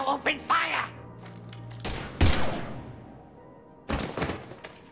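Gunfire in the video game Mass Effect 3: sharp bursts of shots and heavy thuds in several clusters, loud and close, with game dialogue and effects around them.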